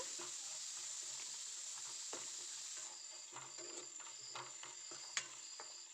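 Something frying in three to four spoons of oil in a pan for bisi bele bath: a faint, steady sizzle with occasional soft stirring taps and one small sharp clink near the end.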